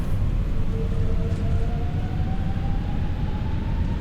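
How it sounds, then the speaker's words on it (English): A loud, steady airliner jet roar fills the clip, with a rising whine sweeping upward through it as engines spool into reverse thrust in a flight simulator game. "All right, in thrust reversers."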